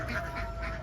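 Ducks kept as backyard pets, Rhode Island and itik types, quacking in short repeated bursts at close range, with a steady hum in the background.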